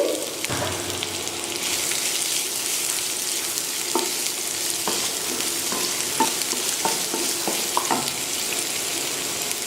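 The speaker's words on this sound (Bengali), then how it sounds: "পেঁয়াজটাকে কিছুক্ষণ ভেজে নিয়ে আমি দিয়ে দিচ্ছি রসুন কুচি" Chopped onions, about a cup, fry in a tablespoon of cooking oil in a pan for shutki bhorta, giving a steady, close sizzle broken by scattered clicks and scrapes of a spatula stirring.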